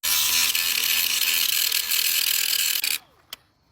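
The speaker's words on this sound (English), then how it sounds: "I do have this guy with the cutting wheel, so we'll try and take the paint off with this." A cutting wheel grinds paint off the steel body of a 10-ton diesel dump truck, giving a loud, steady abrasive whine for about three seconds before stopping, followed by a brief clank.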